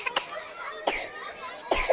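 A young child coughs in short bursts, three sharp coughs spaced out at a steady rhythm, close by over a faint busy background with voices.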